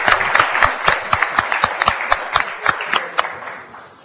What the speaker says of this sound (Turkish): Evet Demircioğlu'na bir alkış.